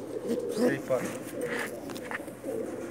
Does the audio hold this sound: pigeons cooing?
yes